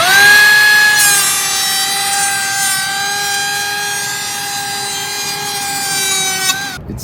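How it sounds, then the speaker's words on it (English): Power planer shaving a bevel along the side edge of a wooden door, a steady loud motor whine with a rough cutting rasp that holds for about six seconds before the blade cuts off abruptly. "So if I just put the planer on there,"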